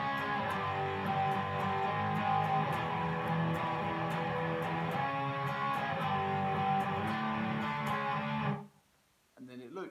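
A distorted electric guitar plays a riff at a slowed-down tempo, a dense, sustained and loud stream of chords and a semitone run for about eight seconds before stopping abruptly.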